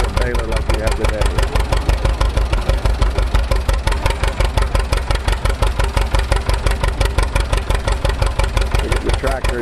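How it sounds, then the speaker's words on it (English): An antique tractor engine drives a belt-powered hay baler, chugging in a fast, even rhythm of loud, close beats, while a voice talks over it. "You get the tractor in just the right tension on the belt and lock her down."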